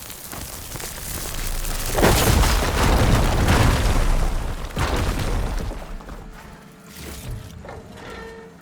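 An igniter blows up a fire gleam in Horizon Forbidden West, a deep rumbling blast that swells and rolls on with crackling debris, then fades into quieter mechanical rattles.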